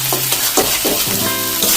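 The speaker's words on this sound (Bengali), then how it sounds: "এই যে আলুর সাথে আমি ভালোভাবে মেশাই নিতেছি" Egg and potato being stirred together in a hot frying pan for a spicy mashed egg-potato dish, with repeated scraping strokes over a steady sizzle, close and fairly loud, no talking.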